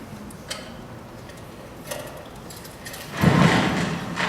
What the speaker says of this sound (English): Hear that static? I love that sound.